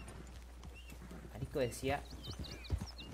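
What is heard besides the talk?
horse hooves from Red Dead Redemption 2 video game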